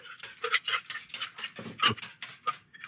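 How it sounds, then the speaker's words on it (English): Milk and cream being whisked together in a bowl, a run of quick, close clinking and scraping strokes against the bowl in an uneven rhythm, moderately loud with no talking. "The milk. Whisk that together."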